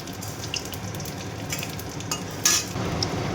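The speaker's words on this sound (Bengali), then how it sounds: "তেল গরম হয়ে গেছে, তেজপাতা দিলাম, গোটা জিরে ফোড়ন দিলাম" Bay leaf and whole cumin seeds tempering in hot oil in a pan, a steady close sizzle with brief spitting pops and a sharper crackle burst near the end.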